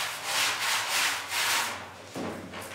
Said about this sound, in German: Deshalb schrubbt Leopold jeden Quadratzentimeter im Tank akribisch.